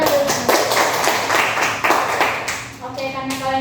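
A classroom of students claps together in a steady burst of rapid, overlapping applause for a few seconds, fading as a voice begins speaking at the end.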